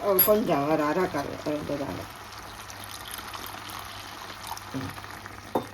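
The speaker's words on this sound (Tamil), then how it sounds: "கொஞ்சமாக தண்ணி சேர்க்க போகிறோம் நாங்கள் கொஞ்சம் தண்ணி சேர்ப்போம்" Water is poured into a pot of Jaffna-style mutton curry as it cooks, a soft, hissing trickle that follows a voice at the start and continues faintly on its own.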